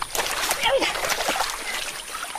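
Water splashes and sloshes briefly as a giant wild anaconda is hauled out of the water, with a voice talking over the splashing.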